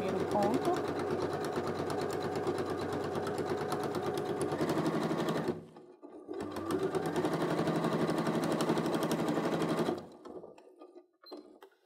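A sewing machine stitches a thermal tote bag of fabric and insulating material, running in steady continuous bursts of rapid needle chatter, pausing briefly near the middle and stopping toward the end, with a voice talking over it.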